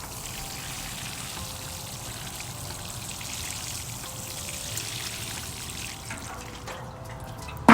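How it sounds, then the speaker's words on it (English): Water pours steadily into a container holding a citrus tree set in a saucer, making a continuous close trickling and splashing wash that runs unbroken before a brief knock at the end. "sure all parts of the container are being equally watered"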